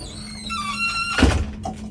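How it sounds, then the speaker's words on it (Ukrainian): A door's hinge squeals in a rising creak, then shuts with a solid thump and a softer knock just after. "Зачиняємо за собою двері."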